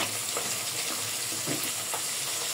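Hilsa fish frying in oil, a steady hiss of sizzling with a few soft bumps and splatters, close and continuous, no voices.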